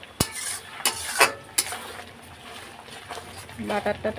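A soft sizzle of paneer frying in butter and oil in a pan, broken by a few clinks of a spoon against the metal.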